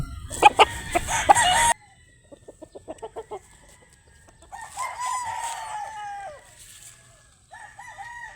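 A rooster gives a loud crow at the start, then a run of soft clucks, followed by two more drawn-out crows at moderate distance with quieter gaps between.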